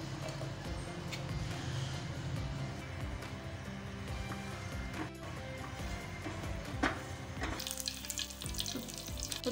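Cumin seeds, a few cinnamon pieces and slit green chillies sizzle and crackle steadily in hot oil for a tadka, a dense continuous frying hiss with occasional stirring clinks, close and with no talk.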